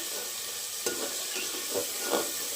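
Spice masala for chicken kosha, made with country chicken, sizzles in oil in a pan while a spoon stirs it, with a few soft scraping strokes over a continuous close fry.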